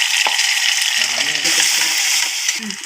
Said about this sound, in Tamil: இந்த இஞ்சி பூண்டு பேஸ்ட்டு கொஞ்சம் சேர்க்குறேன்